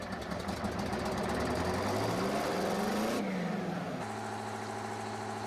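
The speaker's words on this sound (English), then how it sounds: "So there's your startup sound there." A modded vehicle engine in Farming Simulator 17 cranks and catches, revving up with rising pitch before settling abruptly into a steady, loud idle; no voices.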